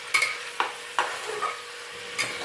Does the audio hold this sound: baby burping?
no